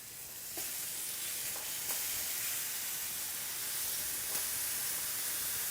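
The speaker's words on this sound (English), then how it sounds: "Instant sizzle." Steady, loud sizzling of onions and tomato frying in a hot pan, a continuous hiss with a few small pops, no talking.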